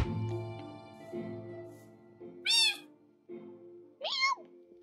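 A cat meows twice in the latter half, short rising-and-falling calls standing out over a steady tonal game soundtrack during Minecraft play.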